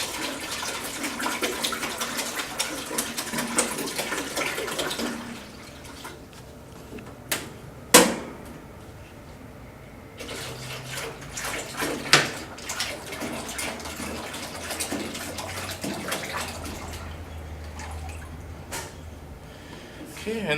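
Soft-serve mix pours and splashes into a machine hopper for several seconds, followed by quieter handling, a couple of sharp clunks, and a low hum, with speech at times.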